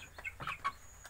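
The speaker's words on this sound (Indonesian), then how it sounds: "Kita kembali melihat ayam ya" A few soft, short clucks from three-month-old Bangkok-village crossbreed chickens, quiet and close, in a brief burst.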